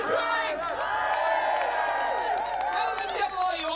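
A festival audience at Shrewsbury Folk Festival greets a folk comedy band with sustained cheering, whoops and yells over scattered clapping, loud and dense throughout.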